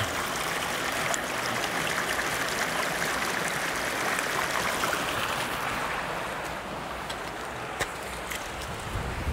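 Creek water flows steadily in Skaftafell National Park, Iceland, a close, broad rushing and gurgling that fills the whole stretch on its own with no voices.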